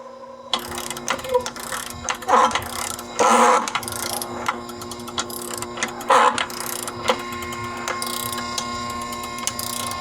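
A torque wrench ratchets in short bursts of rapid metallic clicks while tightening a fastener to 22 foot-pounds on a vehicle fitted with run-flat bands, the clicking close and crisp against a steady background hum.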